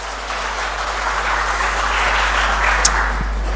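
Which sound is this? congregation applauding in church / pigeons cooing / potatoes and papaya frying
congregation applauding in church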